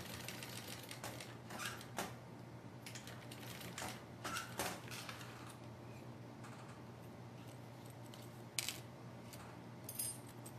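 A sewing machine running bursts of topstitching on a small colourful bag at a lengthened stitch, quick rattling needle runs broken by short pauses and a metallic click, faint and close, no talking.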